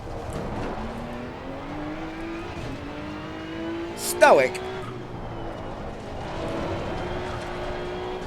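Race car engine in the GT2 video game revving through gear changes, rising pitched whines stepping up repeatedly with a brief sharp burst midway, heard beneath someone talking.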